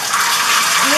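Warm water running into a bathtub, a steady close hiss and splash of the flow that grows slightly fuller toward the end.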